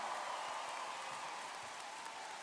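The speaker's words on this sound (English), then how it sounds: "How about one more big round of applause here, ladies and gentlemen, for all our Gojua dancers." A large audience at the 2023 NAIG opening ceremonies applauds the Gojua dancers, a dense, steady wash of many hands clapping, heard at a distance and fairly faint, with no voices over it.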